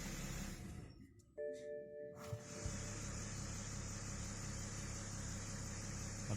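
A BMW car engine with a charging fault runs unevenly: a steady mid-pitched drone with hiss drops out briefly, a few electronic chimes sound, then the engine surges back into a continuous hum.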